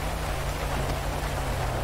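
Rain falling in the video game GTA V, a steady dense hiss of rainfall with a low hum beneath it, heard briefly and evenly with no voices.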